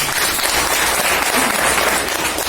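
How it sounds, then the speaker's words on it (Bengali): An audience at a business seminar applauds, a loud, dense wash of clapping from a large crowd that holds steady and close without any talk. "এবার জোরদার হাততালি হয়েছে।"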